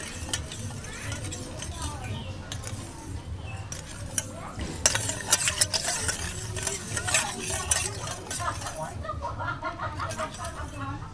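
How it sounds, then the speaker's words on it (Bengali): A spoon stirs sugar into a little water in a pan while making stovetop flour biscuits, scraping and clinking steadily for several seconds. The scraping is faint and close, with a voice talking underneath it. "জল আর চিনিটা একটু মিশিয়ে নেবো"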